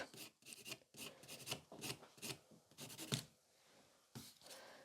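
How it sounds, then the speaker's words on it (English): Gel nails being filed with a nail file at a changed angle to remove lifting, a close dry rasping in repeated short strokes with brief pauses, no talking. "So I changed the angle of me filing because ideally you want to push away this lifting."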